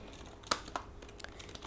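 Soft, sparse key clicks from a computer keyboard, a handful of light taps spread unevenly over a quiet room tone, faint and close with no talking.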